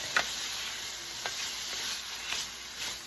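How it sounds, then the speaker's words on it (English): Hibachi beef is stirred in a pan with butter and garlic: a soft continuous sizzle with occasional scraping strokes of the utensil, close and unaccompanied. "we're gonna stir that all up so that it's thoroughly and completely covered in the butter and the garlic"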